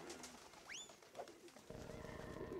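In the video game Jazzpunk a pigeon coos, close and moderately loud. A couple of swooping higher calls come in the first half, then a steadier low warble joins and carries through to the end. No one speaks.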